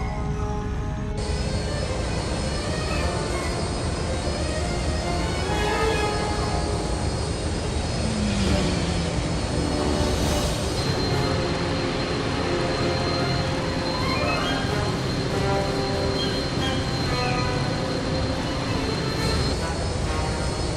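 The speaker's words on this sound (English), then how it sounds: "You take the tram. I'll take care of these ships." Spaceships roar and drone around a cargo tram in a Jedi Knight video game, a dense, steady engine rumble with whooshing passes, laser-like blasts and game music throughout, with voices speaking over it.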